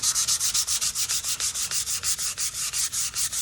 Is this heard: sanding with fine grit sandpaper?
yes